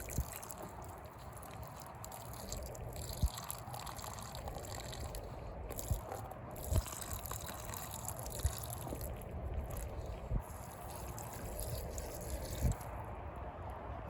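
Water splashes and trickles onto super dry soil around potted chilli plants, a faint, steady wet patter with small dribbles and light drips, close by and without speech.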